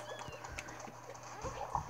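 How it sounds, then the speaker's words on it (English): Coos and short chirps from a bird in the Super Mario Odyssey video game, quiet and repeated over a low steady game background hum, with a brighter call near the end. "I found an annoying bird that has a moon?"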